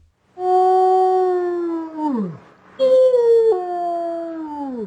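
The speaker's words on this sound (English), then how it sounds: "Is it a wolf? Yes, it is." A wolf gives two long, loud, clear howls close by, each sliding downward at the end, with a short break between them.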